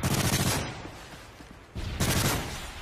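Rapid bursts of gunfire from an Xbox shooter game, loud and dense, with a heavy volley at the start, a thinner stretch in the middle, then another strong burst near the end.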